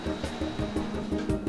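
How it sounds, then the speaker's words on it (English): Huge steel trommel-screen drums turn at a recycling facility, tumbling waste over screens. The sound is a steady mechanical churn with a quick, regular thumping pulse several times a second, fairly close and continuous. "These huge steel drums, like those found in a clothes dryer, spin and turn, moving the waste over screens"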